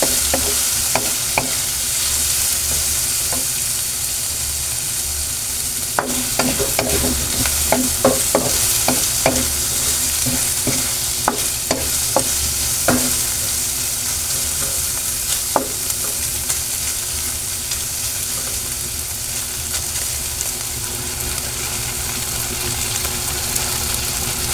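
Chicken gizzards sizzle steadily in a hot pan for adobo, with a string of sharp scraping clicks from stirring clustered in the middle and a few more later, no talking.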